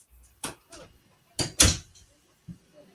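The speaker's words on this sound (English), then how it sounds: "her door close." A door closing somewhere off-mic, a couple of soft knocks followed by a louder thud, faint and indirect amid quiet room noise.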